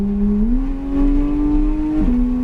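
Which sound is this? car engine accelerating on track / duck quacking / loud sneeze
car engine accelerating on track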